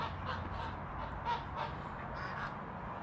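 Faint, distant honking and quacking of geese and ducks rise over a steady background hiss.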